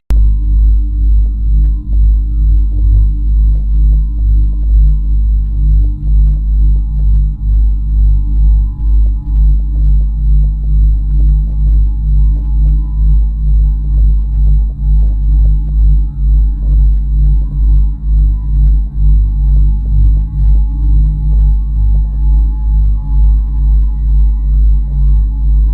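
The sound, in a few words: NASA sonified recording of a red giant star in Orion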